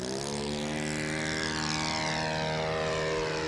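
A propeller-driven RC model airplane engine drones steadily in flight, pitch easing slightly downward as it holds under power at moderate distance, continuous with no pauses.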